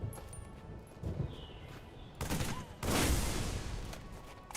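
Explosion of a dropship in a modded Halo 3 game: a sudden loud burst about midway, followed by a second louder, sustained blast of broadband noise and rumble that fills the end, over game background sound.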